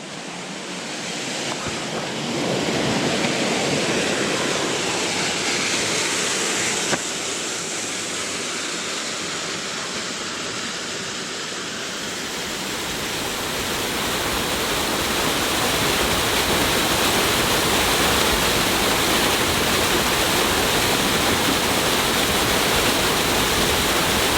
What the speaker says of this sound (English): I think I'm coming up on the falls now.